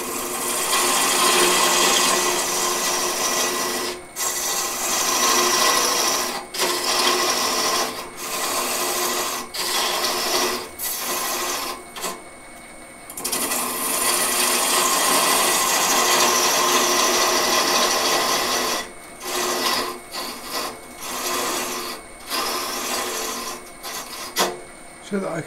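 A hand file rasps across the underside of a wooden goblet, a steady scraping that runs almost continuously with a few brief pauses between strokes, close and fairly loud.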